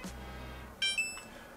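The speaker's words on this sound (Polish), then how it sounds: "Usłyszeliśmy charakterystyczne piknięcie, mówiące nam to, że drukarka jest zesparowana z naszym telefonem." A Niimbot B21 mini label printer gives a short electronic beep as it pairs with a phone, a brief bright tone heard close and alone over a quiet room.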